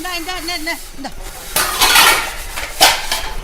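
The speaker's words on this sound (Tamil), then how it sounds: "ராணிமா முக்காவாசி பாத்திரம் கழுவிட்டேன் இந்த உங்க பக்கத்துல இருக்கிற அந்த இட்லி குண்டான மட்டும் இப்படி கொஞ்சம் நவுத்துங்களேன்" Steel pots and dishes clatter and clink during dishwashing, including an idli pot being moved, with sharp metallic bangs in loud bursts following a woman's speech.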